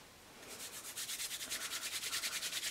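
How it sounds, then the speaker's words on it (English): A hand rubs Clinique moisturising gel into skin with a soft, close swishing that builds into a steady back-and-forth rhythm of quick strokes, quiet and with no talking. "And I rub it into my hand."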